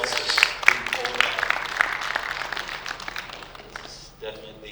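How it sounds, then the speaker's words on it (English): Modest applause from a conference audience at a public health event on neglected tropical diseases, scattered claps under a speaking voice that fade toward the end. "a round of applause is in order."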